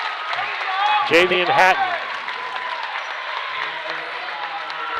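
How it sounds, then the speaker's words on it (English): A loud crowd cheers and claps throughout an 8th grade boys state basketball game, a steady roar of applause with a commentator's voice calling a player's name over it. "And we got a loud crowd down here for this game"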